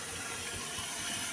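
Water pours steadily into a container set out for piglets, a continuous broadband splashing hiss with no talk over it.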